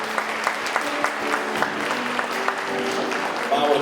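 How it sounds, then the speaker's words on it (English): Audience applause for high school seniors at an evening youth awards ceremony, a steady wash of clapping with sharper individual claps popping out throughout, filling the hall at moderate level. "A round of applause for our students."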